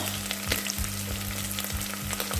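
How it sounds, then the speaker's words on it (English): Crushed pilau masala spices stirred in a hot pot for Kenyan pilau: steady loud sizzling and frying with regular scraping strokes of the spoon, close up and with no talking. "we continue stirring this"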